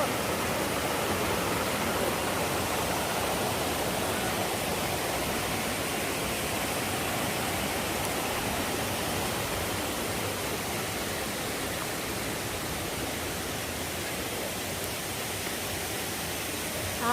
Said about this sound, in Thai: ก็คือมาชั้นของน้ำตกพริ้วแล้ว ค่ะ น้ำตกพริ้ว